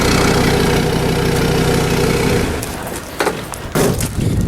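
Old Mercedes diesel engine in a Case 580CK backhoe, fuelled on waste motor oil, idles with a loud, steady knocking rumble close by, then sputters and lurches as the running turns uneven near the end.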